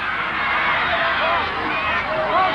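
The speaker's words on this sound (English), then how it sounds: "Crowd calling for South Sydney to move the ball around" Rugby league crowd at a 1979 South Sydney versus Wests match, a steady roaring hubbub with scattered calls and shouts rising and falling across the stand, continuous throughout.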